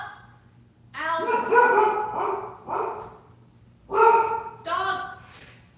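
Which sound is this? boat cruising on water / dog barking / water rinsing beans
dog barking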